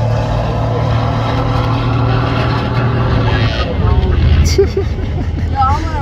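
A 1979 International cabover truck's engine roars steadily with a heavy low drone, shifting in pitch midway as the wheels spin and it pulls off, with crowd chatter around it.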